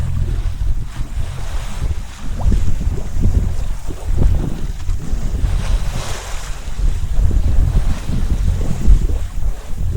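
A sailboat glides slowly at sea near the Bahamas in a calm dawn breeze, with a steady wash of waves and hull water noise under continuous wind rumble on the microphone.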